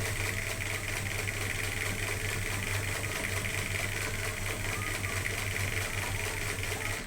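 Sewing machine running steadily as fabric is fed through with a very small stitch length, a continuous close motor hum with rapid even stitching throughout, no talk.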